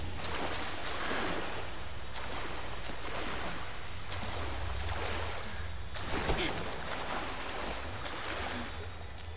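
Steady rushing water, like a flowing river, fills an in-game setting in the Tomb Raider PC game, a continuous loud wash with no clear breaks and no talk over it.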